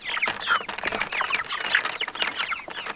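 Meat chickens cluck and chatter in a lively flock, several birds calling over one another up close, with brief rustling like wing flaps.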